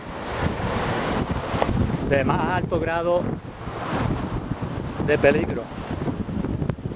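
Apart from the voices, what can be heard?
ocean waves and surf on a deep-water beach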